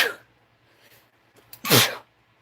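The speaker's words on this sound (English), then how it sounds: "I sneezed into my elbow" A single person sneezes into an elbow, a short sharp burst after a faint intake of breath, close and clear against a quiet room.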